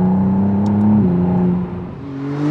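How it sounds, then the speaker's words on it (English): A McLaren Artura hybrid sports car gives off an artificial engine note piped through its cabin speakers, a steady droning hum that dips briefly and then climbs again, with no talking. "You get some of that fake engine note through the speakers in the car."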